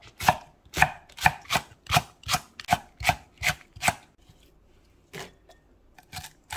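Knife chopping vegetables into long strips on a cutting board, a run of about a dozen crisp, evenly spaced close chops, then a pause and a few softer scattered cuts.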